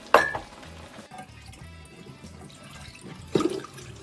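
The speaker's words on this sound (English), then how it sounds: "So we're straining the noodles, the water from the noodles" Cooking water drains and splashes as soft pancit noodles are strained, with a burst of pouring at the start, a steady trickle, and another splash near the end.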